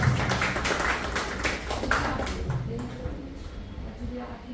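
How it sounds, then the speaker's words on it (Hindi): Clapping from members at a Rotary Club business introduction meeting in Jaipur, a brief burst of hand claps that thins out over a few seconds amid room murmur. "अनिल जी के लिए तालियां।"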